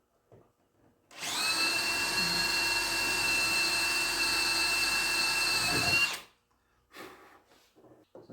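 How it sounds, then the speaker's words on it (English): A power drill bores a hole during a Camaro SS supercharger installation, a steady high whine that starts abruptly, holds for about five seconds at close range, then cuts off, with faint handling noises around it. "pull the trigger, and there it is. Another hole drilled."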